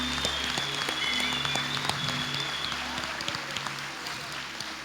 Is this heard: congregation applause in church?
yes